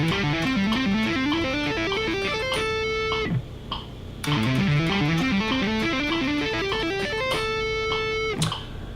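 An electric guitar plays a fast tapping pattern at six notes per click, with rapid repeating legato note runs that rise and fall. The runs pause briefly and then resume, loud and close with sustained ringing tones.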